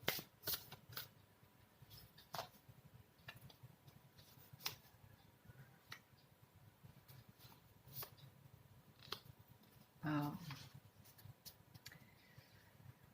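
Tarot cards being shuffled and handled, a series of crisp, sharp card snaps and flicks spaced irregularly across a quiet background, with one louder, longer riffle near the end.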